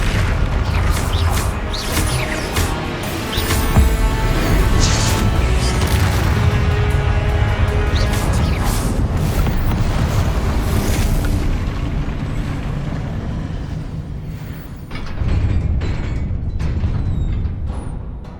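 Spell explosions in the video game Hogwarts Legacy make loud, dense booms and bursts over a continuous rumbling battle din, with sharp cracks and crashes throughout and a fresh surge of blasts near the end.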